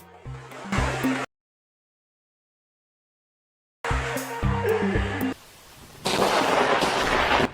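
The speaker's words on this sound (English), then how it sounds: "Blinding lightning lit up the sky over the city, illuminating everything for a brief, stunning moment." Deep booming thunder over a city, two heavy rumbling bursts separated by a stretch of silence, then a sustained roar close and loud.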